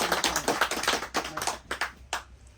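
Scattered applause from a small audience at an award ceremony in New York, uneven rapid claps that thin out and fade after a couple of seconds.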